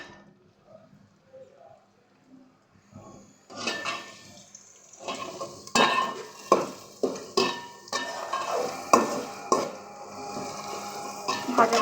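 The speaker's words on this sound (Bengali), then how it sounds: "5 চামচ তেলের মধ্যে আমি দারচিনি, এলাচি, তেজপাতা আর পেঁয়াজ দিয়ে দিয়েছি।" Onion, cinnamon, cardamom and bay leaf fry in about five spoons of oil, heard as sharp, rhythmic stirring scrapes against the pan over a low sizzle, starting quietly and growing louder after a few seconds.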